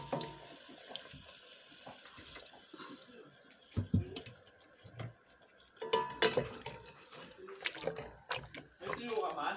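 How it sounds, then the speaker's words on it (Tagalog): A little water is poured from a tap or jug into a pot of adobong pusit, squid adobo, in a home kitchen. The running water splashes in bursts of moderate loudness, with people talking and other kitchen noise around it. "Yan po lang konting tubig."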